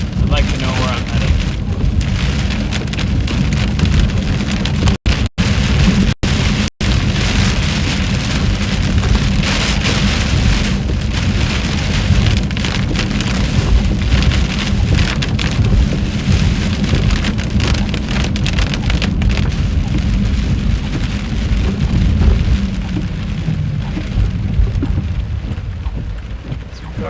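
Steady, heavy storm rain pours the whole time in a continuous hiss during a tornado chase near Beaver Dam, with a few sharp clicks early on.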